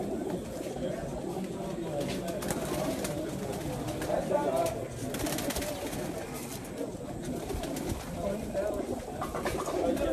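Pigeons kept by a pigeon fancier in Mirpur, Azad Kashmir, cooing repeatedly nearby in a soft, low, throaty rhythm over steady background noise.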